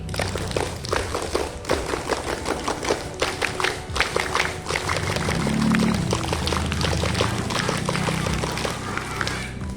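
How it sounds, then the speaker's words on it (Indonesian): A group does scout rhythmic clapping in a fast, dense rhythm throughout, steady and close, with a low hum of background noise, at a National Scout Day ceremony. "mari kita bertepuk pramuka 3 kali. Tepuk pramuka 3 kali."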